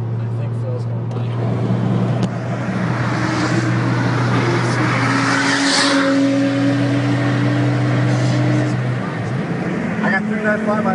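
A turbocharged VR6 car accelerates past up close, its loud engine holding a steady droning roar before the pitch climbs as it winds out, with broadband road and wind noise throughout.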